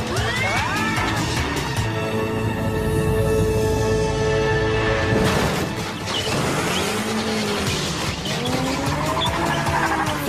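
A multi-legged mégapod vehicle in an animated series clatters over rough terrain, a loud, busy mix of mechanical whirring, screeching and scraping that swells and dips with the movement.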